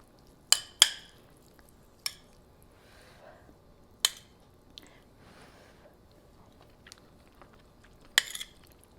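Sparse cutlery clinks against a plate during a tasting of Thai green chicken curry with rice, a few sharp taps spaced apart with faint chewing between them in a quiet room.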